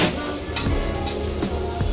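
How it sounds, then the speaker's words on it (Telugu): Ginger and garlic fry steadily in a pan while a chicken fry is cooked in a home kitchen, giving a continuous close sizzle with faint crackles throughout and no talk. "అల్లం వెల్లుల్లి కూడా మంచిగా ఫ్రై అయిపోయింది"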